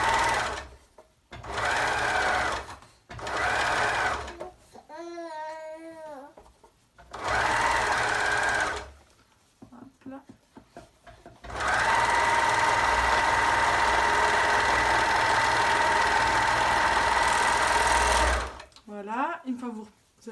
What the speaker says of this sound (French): vous commencez à coudre à partir du milieu pour être sûr que vous êtes bien centré